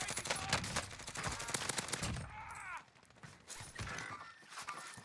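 A GRAU rifle fires in rapid automatic bursts on Warzone's Rebirth Island, crisp repeated cracks with mechanical clatter and a brief pause mid-sequence before shooting picks up again, fairly quiet overall.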